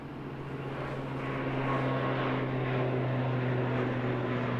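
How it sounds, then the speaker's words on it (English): An ATR turboprop airliner bound for Hamilton, unseen in fog at Christchurch Airport, gives a steady droning engine and propeller hum with low tonal whine that slowly grows louder, heard alone. "This is the Hamilton ATR, which we won't see, but we can listen to it."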